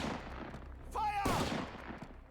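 Gunfire in the World War II strategy game Men of War II, a quick loud burst of shots following a short whistling tone, over a murmuring battlefield background.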